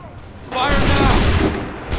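A volley of musket fire in Assassin's Creed III bursts out as a dense, loud crackle of many shots at once, trailing into a rumbling echo; a voice calls out over the gunfire.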